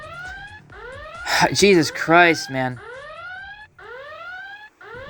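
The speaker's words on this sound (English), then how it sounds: "Sorry that siren is blazing or blaring throughout this the whole time." In the video game Danganronpa Another, an alarm siren blares in repeating rising electronic sweeps that run steadily through the whole stretch, with someone speaking loudly over the middle of it.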